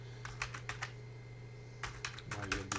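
Computer keyboard keys tapped while entering a systemctl command to check a MariaDB server, two short bursts of quick clicky keystrokes with a steady hum underneath, close and moderately quiet.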